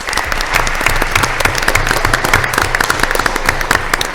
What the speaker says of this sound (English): Round of applause, girls.